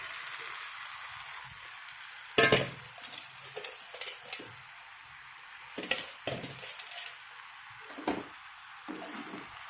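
Chopped broad bean pieces tipped into a hot pan with cumin, a sudden scattering clatter and sizzle followed by a few more rattling drops and stirring scrapes over a steady low hiss.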